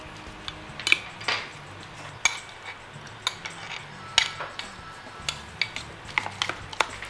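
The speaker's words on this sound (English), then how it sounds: "I'm going to mix all that together" Leftover cream is mixed into a white fish purée in a bowl, with a string of light, close utensil clicks and taps at an irregular but steady pace.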